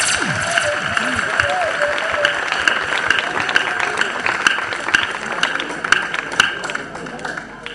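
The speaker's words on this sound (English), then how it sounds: "please give everyone a round of applause" An audience at a children's talent show claps steadily for all the performers, with a dense patter of hands running under scattered crowd voices and chatter, fading slightly toward the end.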